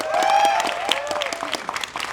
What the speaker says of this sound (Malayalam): ഒരു കൈയടി സ്പെഷ്യലായിട്ട് കൊടുത്ത് തന്നെ വിളിക്കണം